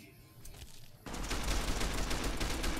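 Rapid gunfire and explosions in the video game Fallout New Vegas, starting faint and then jumping to a dense, loud burst of continuous shots that carries on to the end.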